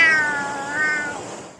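A cat riding along on a bicycle lets out one long, drawn-out meow, close and fairly loud, fading away at the end with no voices over it.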